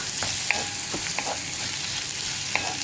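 Spoon scraping and stirring potato soya masala curry in a hot pan, with a steady frying sizzle underneath and a few sharp metallic scrapes spaced through it, close and clear, no talking.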